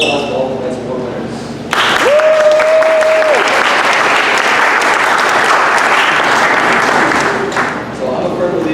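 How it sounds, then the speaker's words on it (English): Large audience at a high school spring athletic awards ceremony breaks into sustained loud applause for award winners, a dense roar of clapping lasting several seconds after a brief spoken moment. "we did another huge round of applause for all the best award winners"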